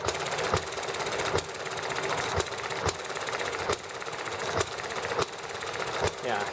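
A small ET7 engine running steadily after being refueled, a continuous mechanical clatter with regular thumping knocks roughly every second, loud and close.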